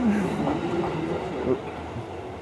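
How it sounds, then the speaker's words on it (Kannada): A local train near Mount Fuji in Japan rolls past with a moderate rumble and faint wheel squeal that fades, while a voice murmurs in the background. "ಹೆಂಗೈತೆ ನೋಡ್ರಿ ಟ್ರೈನ್, ಲೋಕಲ್ ಟ್ರೈನ್"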